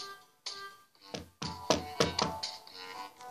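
Knocks on a door in a cartoon-style short: a handful of sharp taps and thunks in an uneven cluster, close and fairly loud, with no talk over them.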